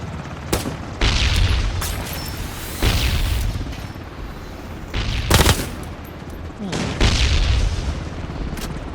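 An explosion in the video game Ring of Elysium booms among rapid bursts of gunfire, loud and close, with a voice talking now and then in between.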